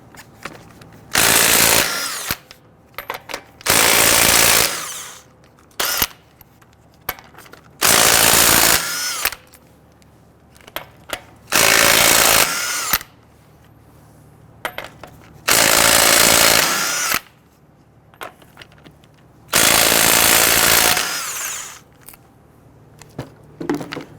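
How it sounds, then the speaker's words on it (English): A power tool with a 22mm socket loosens and removes lug nuts from the wheel of a 2007-2014 Cadillac Escalade, firing in about seven loud, rattling bursts separated by short pauses. "Using a 22mm socket, loosen and remove all of the lug nuts."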